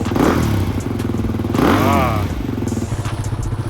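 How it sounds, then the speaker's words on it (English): Beta RR dirt bike engine revving up and down at a campground, a steady loud motor note rising in two swells with a rhythmic harmonic pulse, close by and with speech-like voices mixed in. "had to even ask the bike to rev him."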